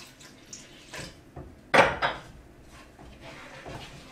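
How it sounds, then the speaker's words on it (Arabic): A pot of dough ingredients for homemade sponge bread with natural yeast is stirred, a single sharp scrape and clatter of a utensil against the pot standing out amid faint kitchen clinks, with no talking. "غدا غير نخلط هكذايا حتى كيتخلطوا مزيان هاد المكونات"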